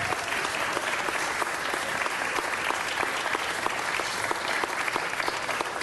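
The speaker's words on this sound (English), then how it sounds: "let's give her one more round of applause, everyone" Steady, dense applause from the audience at a city council meeting, even and sustained for the whole stretch with no pause.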